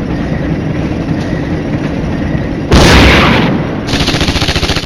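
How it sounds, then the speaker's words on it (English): Tank gunfire in the Flashpoint Campaigns war game: a steady rumbling battle bed breaks into a sudden loud blast, then a rapid string of even, rhythmic shots. "Good shooting there by the Scots."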